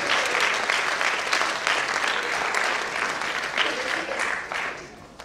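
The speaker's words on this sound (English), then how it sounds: "Let's have one more round of applause." A theatre audience gives sustained applause after a public speaking contest, dense and steady throughout with only faint background voices.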